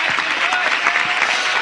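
A church congregation claps together in steady, dense applause at a Spanish-language evangelical service, the sound full and close throughout, with voices faintly mixed in.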